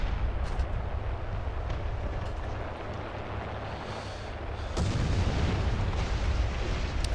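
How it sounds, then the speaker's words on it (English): Artillery shells in the War Thunder tank battle on the Mozdok map land as a continuous heavy rumble of distant booms and blasts, with a fresh surge of nearby impacts partway through. "he's calling down artillery"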